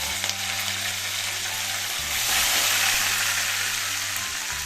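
Curry leaves go into hot oil with fried lentils for a tempering for cabbage mustard curry, producing a loud, dense, steady sizzle that swells midway with stirring, close up, no voices.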